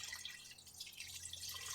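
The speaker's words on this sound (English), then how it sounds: "now it says just to pour it all over the chicken." A sauce mixture drips and trickles over chicken in an Instant Pot pressure cooker, a faint, wet, continuous patter under a low background hum.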